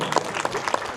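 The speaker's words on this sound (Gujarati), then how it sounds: "તારા બેસ્ટ ઓફ લકની તાળીઓ જાદી પડી" Short burst of clapping from a small group at a family wedding gathering, a few quick hand claps close by and lasting about a second.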